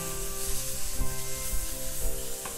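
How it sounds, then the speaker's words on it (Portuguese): Shrimp sizzling in a very hot frying pan with olive oil, a dense continuous crackling hiss with small pops, close and loud, no talking. "Aqui bem quente, eu vou colocar camarão aos poucos."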